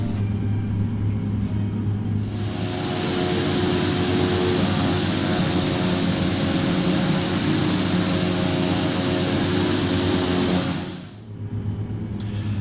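Twin turboprop engines of a simulated Carenado PA31T Cheyenne II in Prepar3D roar loudly and steadily with a high whine, holding a constant drone before briefly dipping near the end, with no voices.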